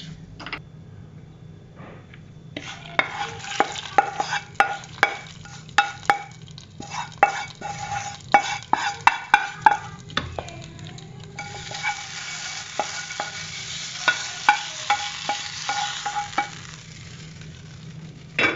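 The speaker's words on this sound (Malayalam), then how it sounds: "നമുക്കിത് നന്നായിട്ടൊന്ന് ഇളക്കി കൊടുക്കാം" Kerala sadhya koottu curry stirred in a pan, a low sizzle broken by repeated sharp clicks and scrapes of a spoon against the pan in irregular bursts, close and alone.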